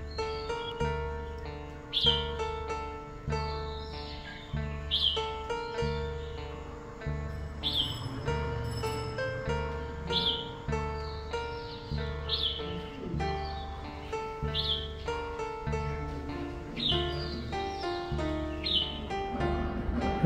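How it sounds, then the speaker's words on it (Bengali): A red-whiskered bulbul sings repeated sweet, whistled phrases at regular intervals over a steady musical background, in spring in Kolkata. "সিপাহী বুলবুলিটি মিষ্টি সুরে ডাকছে।"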